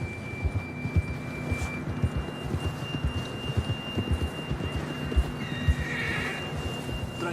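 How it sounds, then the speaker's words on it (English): In the video game Red Dead Redemption 2, a horse whinnies while hooves thud in a steady rhythm, with a faint hum beneath and a high tone drifting through the background. "John was riding that horse when we left Blackwater"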